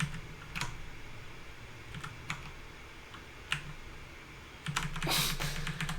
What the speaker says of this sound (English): Oh man, typing is hard.